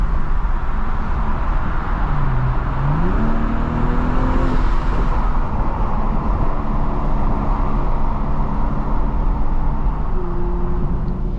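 A 2024 BMW M440i coupe drives with the windows down, a loud, steady roar of wind and road noise filling the cabin while the engine note climbs and shifts early on.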